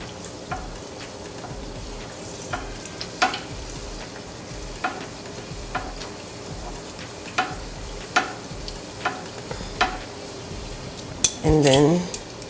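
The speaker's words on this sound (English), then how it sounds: "I could just do this and beat it with a spoon, like so." Breading for a yamarita frying in a pan, beaten with a spoon: a steady sizzle under a run of sharp, irregular metallic taps and scrapes, close by, ending in a brief louder clatter.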